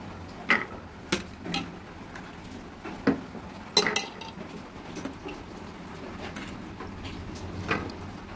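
Dry chickpeas, soaked and washed, poured and dropped into a metal pressure cooker, giving several scattered clinks and rattles against the pot at close range, with quiet pauses between.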